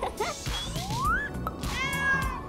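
A cat gives a rising meow, then a longer harmonic meow, amid busy background sounds with brief knocks in a playful doll-craft scene.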